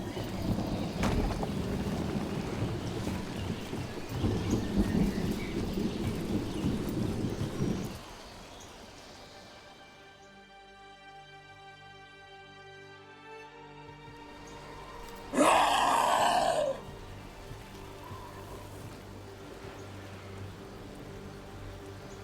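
Rain falls steadily in a Dragon Age: The Veilguard game scene while a character climbs, a hissing wash that drops lower midway, with a brief sharp burst near the end.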